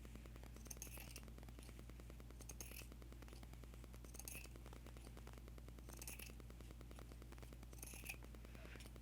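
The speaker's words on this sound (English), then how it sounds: "I'm going to trim my lace down a little bit because it's a little bit thick" Scissors trimming a strip of lace: five evenly spaced, quiet metallic snips over a steady low hum, close to the listener and with no talking.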